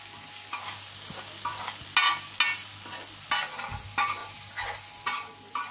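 Turmeric, red chilli powder and kasuri methi are stirred into softened vegetables for Mumbai-style pav bhaji: a spoon scrapes the pan in repeated rhythmic strokes over a steady low sizzle.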